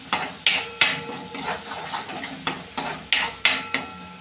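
Spoon clattering against a pan as dry spices, Kashmiri chili powder and turmeric, are stirred into pasta, a dozen sharp uneven knocks and scrapes close up, with no talking.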